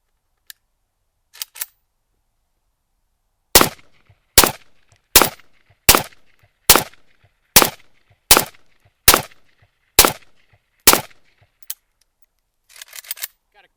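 A rifle fires 62 grain Tula FMJ rounds as a string of about ten sharp, loud shots at an even pace, with a few clicks of handling before and after.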